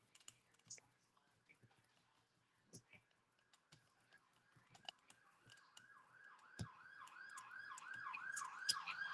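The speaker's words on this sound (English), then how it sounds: "You'd think I live in a war zone by all these sirens" Emergency vehicle sirens wail outside, faint at first and then swelling into a clear rising and falling sweep. Scattered small clicks and taps sit close by in a quiet room.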